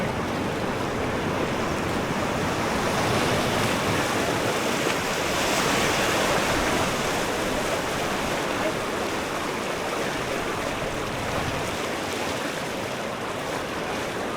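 Churning whitewater of river rapids with standing waves, a steady loud roar of rushing water throughout without a break, as heard close to the river from a packraft.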